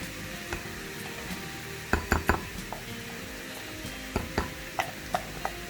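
Sour cream being stirred with cornstarch in a bowl, utensil scraping softly with a handful of light clinks and taps against the bowl over faint steady background hiss.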